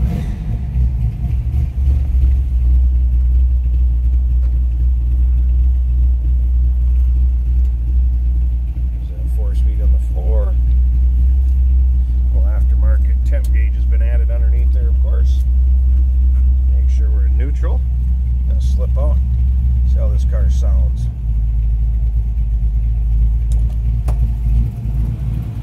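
A 1963 Chevrolet Impala SS two-door hardtop idles steadily, its engine giving a deep, even rumble up close for the whole stretch while someone talks intermittently over it.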